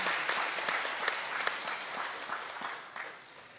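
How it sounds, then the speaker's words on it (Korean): A church congregation claps together during a Sunday service, dense steady applause sustained throughout and tapering a little near the end. "박수 한번 해주세요"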